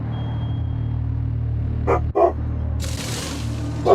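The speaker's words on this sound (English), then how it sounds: "Sorry for the dog barking." A dog barks in the background during a live racing game session, a couple of short sharp yaps at a distance above a steady low hum.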